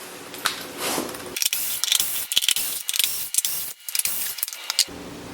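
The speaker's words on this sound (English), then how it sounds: "start with removing these 6 T27 bolts" A tool works loose six T27 Torx bolts from the air cleaner cover of a 2019 Harley-Davidson FXDR 114, giving close, quick bursts of ratcheting clicks and metallic rattles separated by short pauses.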